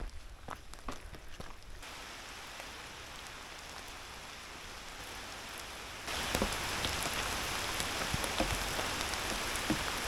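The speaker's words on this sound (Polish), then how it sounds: "bo też zaczyna poważnie już padać. Już go słychać." Soft, steady rain patters on a surface outdoors in Italy, a hissing wash that grows noticeably heavier partway through, with a few scattered knocks and steps.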